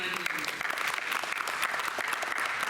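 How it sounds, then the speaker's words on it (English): Audience applause at a community annual day celebration, dense steady clapping from a crowd filling the whole stretch at an even level. "a big round of applause for Shobhanaji"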